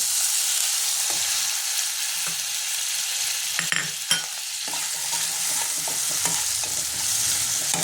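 A spatula stirs mustard and poppy seed paste through hot oil in a frying pan, soft sizzling running underneath with occasional scraping knocks and clinks, close and steady with no voices.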